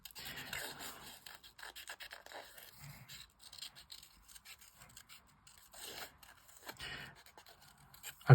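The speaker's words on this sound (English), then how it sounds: "So just gonna fussy cut the butterfly." Scissors snip and rasp through paper as a butterfly shape is fussy cut, giving soft, intermittent cutting and rubbing sounds, close and quiet, with short pauses between strokes.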